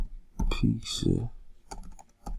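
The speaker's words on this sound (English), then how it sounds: "Or I can now type" Fingers type on a computer keyboard in a few quick close bursts of clicking keys, with a voice speaking over part of it.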